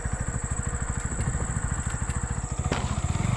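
A Bajaj Pulser NS160 BS6 motorcycle being ridden, its engine putting out a steady, even, close thrum with a faint whine above, running continuously with no talk.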